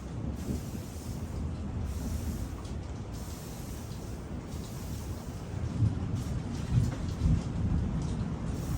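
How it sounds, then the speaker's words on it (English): Repeated hissing sprays of water from a spray bottle onto French bread loaves, in uneven bursts, heard over a steady low rumble of background noise. "I'm going to spray my loaves with water again"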